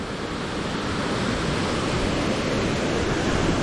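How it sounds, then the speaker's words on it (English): A waterfall on a hiking trail near a swimming hole roars as a constant, dense rush of falling water, loud and close, with no break or change across the whole stretch. "Just a quick view of the second waterfall."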